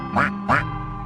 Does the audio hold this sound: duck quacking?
yes